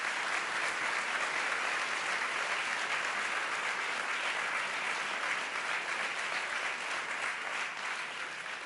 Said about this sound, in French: j'aimerais vous demander de les applaudir